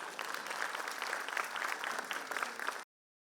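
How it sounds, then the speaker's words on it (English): Dense, steady applause from an audience at a school annual function after a performance, loud and continuous, ending abruptly. "Let's give once more big round of applause for our amazing performance."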